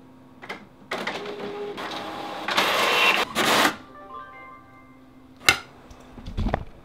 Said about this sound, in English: Now to print it.